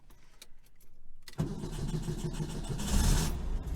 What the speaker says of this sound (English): That time it fired right up and cranked, or cranked right over and fired up.